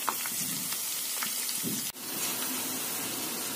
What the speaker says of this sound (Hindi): हमें तेल को तब तक पकाना है जब तक कि हमने सारी चीजें जो हमने डाली है, लहसुन और ये धतूरा, लौंग, सब काला ना हो जाए